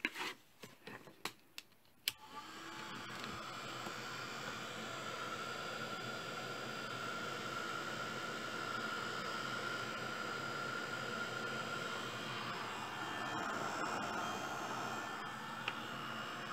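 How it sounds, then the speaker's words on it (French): A quiet electric heat gun blowing hot air over embossing powder on a birthday card, a steady airy rush with a few clicks and taps before it starts, close and unbroken. "j'ai utilisé mon pistolet chauffant comme ça, celui qui fait pas de bruit"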